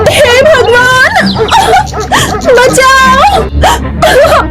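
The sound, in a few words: dog barking and whimpering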